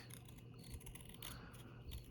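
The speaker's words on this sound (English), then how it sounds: "Now let's take our scissors and just trim right underneath that hot pink." Scissors trim paper in a craft setting, making a few faint, quiet snips and rustles close by over low background noise.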